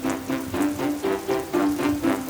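Steady rain drumming on a surface in a dense, even patter with soft rhythmic swells, close and moderately loud, with no voices.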